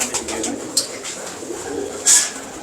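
Pigeons from a kept pair, a male and female, coo in soft low murmurs close by, with a sharper bird call rising near the end over quiet background.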